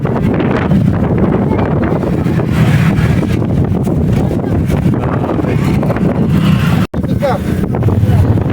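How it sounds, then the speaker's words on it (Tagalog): Strong wind buffets the microphone at Mega Dike in Malabon, a loud continuous roar and rumble with a brief dropout near the end. "Grabe lakas ng hangin talaga."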